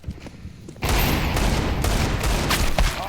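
Gunfire in a video game: a few scattered shots give way to a dense, sustained burst of rapid firing that fills the rest of the moment.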